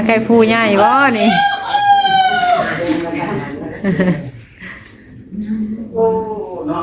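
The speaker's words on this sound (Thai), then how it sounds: "ไก่ผู้ใหญ่บ่นี่" A grown rooster crows in long, wavering calls amid a lively housewarming gathering, with people talking loudly around and over it.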